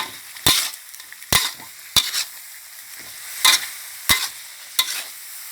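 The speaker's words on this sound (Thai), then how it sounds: "พริกแห้งทอดค่ะ ใส่ไปเลย เปิดไฟแรงค่ะ ผัดทุกอย่างให้เข้ากัน" Fish is stir-fried in a hot wok over high heat with fried dried chilies and fried kaffir lime leaves: about seven sharp, loud scraping spatula strokes against a soft, crackling sizzle, with no talking.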